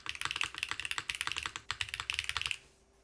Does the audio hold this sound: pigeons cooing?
no